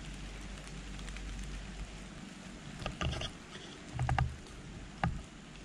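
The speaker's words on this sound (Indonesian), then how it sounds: "Malam hari ini gerimis mulai melanda teman-teman." Light drizzle at night outside a former neighbourhood office beside a cemetery in Surabaya, East Java: a faint, steady patter of rain, with a few brief louder ticks and knocks nearby.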